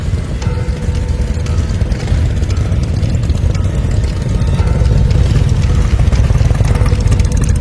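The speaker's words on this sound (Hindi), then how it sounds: "मोटरसाइकिल की आवाज आई" A steady engine drone with a low, throbbing rumble, holding fairly close and loud with no talk, growing slightly stronger toward the end.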